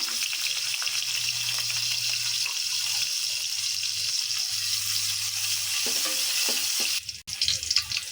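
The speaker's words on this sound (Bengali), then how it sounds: "একটুখানি রসুন কাটা রসুন কুচিটা দিয়ে দিলাম দিয়ে দিব অল্প একটু পেঁয়াজ কুচি" Chopped garlic and onion fry in oil in a cooking pot, giving a loud, even sizzle with a faint low hum underneath, then a short clatter and stirring bumps at the end, no voices.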